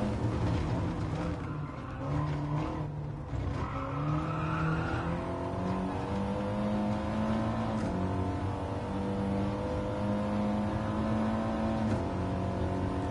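Race car engine in a racing video game, droning steadily with rising and falling pitch as gears shift, with tire squeal and skidding at moments; loud and continuous with no talking.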